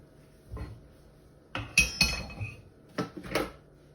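A Thermomix bowl with its blades, turned upside down and twisted left and right, gives a few metallic clinks and clatters in short separate bursts, close and quiet.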